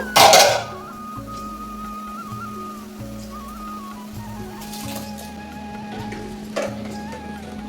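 Washed rice pours into a cooking pot on a home stove with a short, grainy pattering rush, followed by quiet kitchen ambience with faint clinks and a steady low hum.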